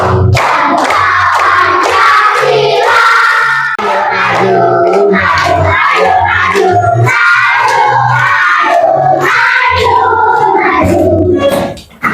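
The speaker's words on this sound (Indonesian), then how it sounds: "Ya, tepuk tangan." Children clap their hands in a classroom in rhythmic bursts that fill the room, loud and continuous, with chanting voices over a steady beat.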